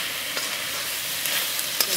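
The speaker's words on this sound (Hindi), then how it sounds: "अच्छा से भूनेंगे" Chicken mince mixed with coriander powder, garam masala and salt fries in a pan, a steady close sizzle broken by a few light scraping stirs, with no talking.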